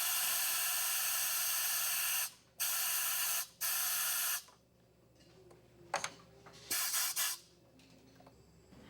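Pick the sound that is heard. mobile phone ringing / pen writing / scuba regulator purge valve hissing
scuba regulator purge valve hissing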